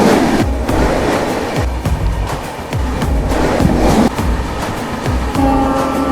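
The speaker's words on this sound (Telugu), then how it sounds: "ట్రైన్ వచ్చి 12774 సికింద్రాబాద్ నుంచి షాలిమార్ మధ్యలో అయితే నడుస్తుంది ఏసీ సూపర్ ఫాస్ట్ ఎక్స్ప్రెస్" The 12774 Shalimar AC Superfast Express, running from Secunderabad, rolls past close and loud. Its wheels beat out a rhythmic clickety-clack over the rail joints under heavy rumble and wind noise.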